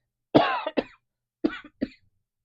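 A woman coughs close to the microphone, two quick pairs of harsh coughs separated by a short pause, in an otherwise quiet room.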